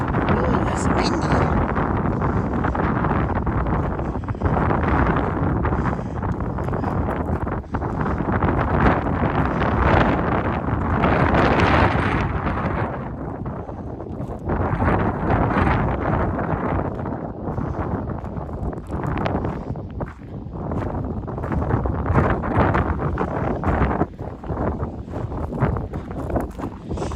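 Strong, steady wind buffets the microphone on a clifftop overlook along Michigan's Upper Peninsula, a loud continuous roar with gusts that swell and ease for the whole stretch.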